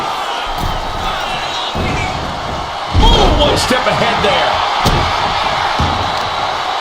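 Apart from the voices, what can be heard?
wrestling arena crowd cheering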